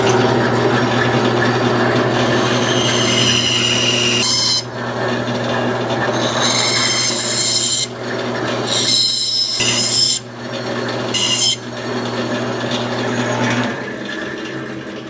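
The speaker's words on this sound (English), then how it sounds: "Come over to your bandsaw and cut those lines, but only go about half the width of the 2x4." Bandsaw cutting lines partway into a 2x4, a steady machine hum under bursts of loud buzzing, rasping blade noise that start and stop as each cut is made.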